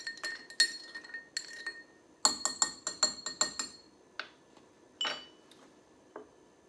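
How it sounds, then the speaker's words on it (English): Ice clinks against a glass as a port cocktail on the rocks is briefly stirred to chill it, quick bright rattling bursts in two clusters followed by a few lone taps, close up and alone. "We're going to give that a quick stir just to kind of chill port down a little bit."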